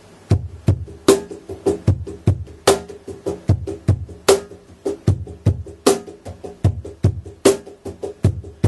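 Cajon groove with the 16th notes filled in: rapid, steady hand strikes mixing deep bass thumps and crisp snare slaps in a dense, driving pattern, played close and alone.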